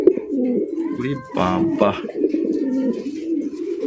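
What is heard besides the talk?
male pigeon cooing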